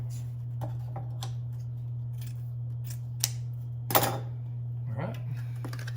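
Scissors snip through ribbon for a woodsy pine cone southern winter wreath, several sharp separate cuts with a louder crunching snip near the end over a steady low hum.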